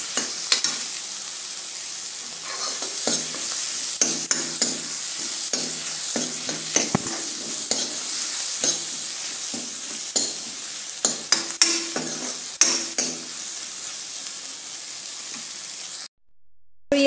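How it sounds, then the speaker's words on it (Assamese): Ridge gourd and egg being stirred in a hot pan, a steady oily sizzle broken by frequent scraping spoon strokes, close and fairly loud, with no talking, ending in a sudden cutoff. "আৰু এতিয়া ভালদৰে এনেদৰে লৰাই ল'ম"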